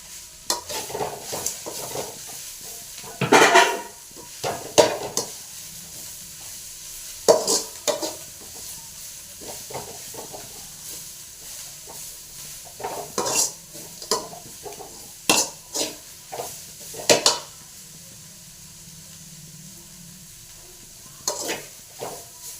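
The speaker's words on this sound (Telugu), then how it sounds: "ఇలా తాలింపు చేసుకొని, మునగాకు తాలింపు చేసుకొని" Drumstick leaves frying in a tempering pan with chickpea powder, chili powder and salt, stirred in bursts of scraping spoon strokes over a steady close sizzle, with no talking.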